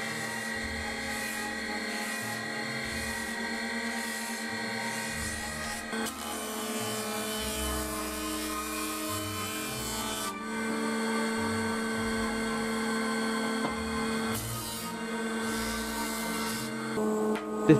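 A hand feed planer shaving the sides of wood for a Japanese shoji screen, a loud, steady whining motor drone with shifting tone as the board passes through the cutter, close and continuous without talk.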